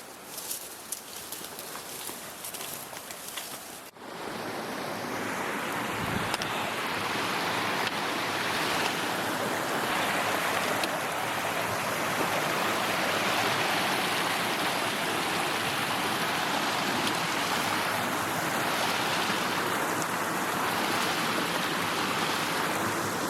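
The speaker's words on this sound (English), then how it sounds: "I can hear the river." A river in the Colorado mountains rushes as a steady, broad wash of flowing water that swells in after a few seconds of quieter woodland sound and then stays constant and fairly close, with no talk.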